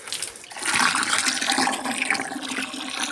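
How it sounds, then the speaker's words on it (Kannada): Water pours steadily into a roughly 20-litre bucket, filling it for an organic garden fertilizer mix. A continuous close rushing splash runs alone for about three seconds. "ನೀರು ಹಾಕ್ಕೊತಾನೆ"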